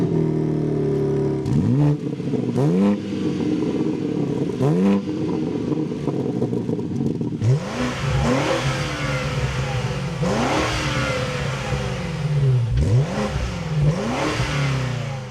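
A BMW M3 Competition sports sedan engine fires up by remote start, then revs repeatedly, each throttle blip rising and falling with a throaty exhaust rumble, close by.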